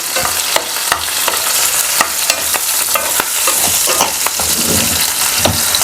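Home-style sautéing of onions and spices in a pan, a loud close sizzle with rapid scraping and tapping strokes of a spatula stirring throughout, no one speaking.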